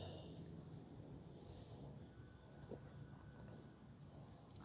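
A Dancing Wings Hobby E15 biomimetic mini eagle RC plane with a 1200mm wingspan flies on its maiden flight, a faint distant whine holding steady throughout.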